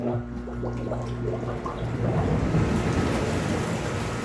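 Steady rushing, bubbling water churns continuously from American Standard whirlpool bathtub jets, loud and close, with a low motor-like hum underneath.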